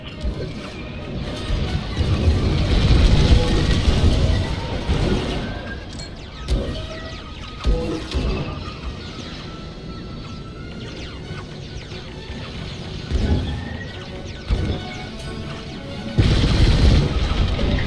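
A broadcast dish explodes in the Star Wars: Squadrons space-combat game, with deep rumbling booms and crashing debris at the start and again near the end, set against continuous mechanical battle noise and no talk.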